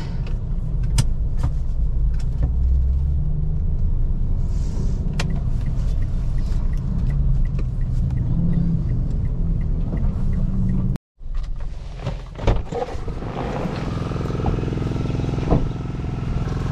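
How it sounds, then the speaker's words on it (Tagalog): Road traffic on a busy evening street, with cars and motorbikes passing nearby in a continuous rumbling wash, a brief cut in the middle, then steady traffic noise again. "Traffic."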